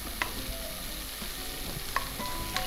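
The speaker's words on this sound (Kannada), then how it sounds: "ನಮ್ಮ ಪನ್ನೀರ್ ಹಾಕ್ತಾ ಇದ್ದೇನೆ, ಯಾಕೇಳಿದ್ರೆ ಅದು ಇದ್ರೊಟ್ಟಿಗೆ ಸ್ವಲ್ಪ ಫ್ರೈ ಆಗ್ಲಿ" Paneer fries in a hot pan, a steady crackling sizzle with a few sharp clinks of a spoon stirring.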